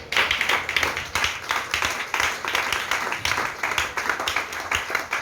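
Church congregation clapping in rapid, uneven bursts throughout a worship service, loud and close, with cheering and voices blending into the applause.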